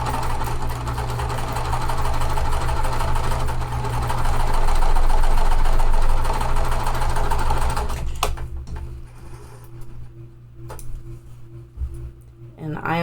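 A sewing machine runs steadily while stitching cotton quilt pieces, a continuous mechanical whir for about eight seconds before it stops, leaving quieter handling sounds and faint clicks afterward.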